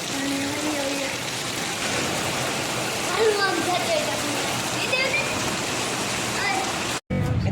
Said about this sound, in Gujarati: વરસાદ આવે ફૂલે ફૂલ